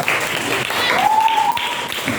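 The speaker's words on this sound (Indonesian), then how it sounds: "Dan tepuk tangan untuk kita semua dulu" Brief burst of applause from a school audience of students and staff, steady clapping throughout with a voice calling out over it.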